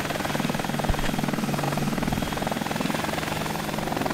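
Mi-24 Hind attack helicopter in a flight simulator game, a steady, loud rotor drone with a rhythmic chopping pulse and engine whine, continuous throughout with no voices.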